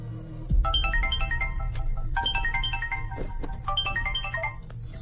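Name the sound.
phone ringtone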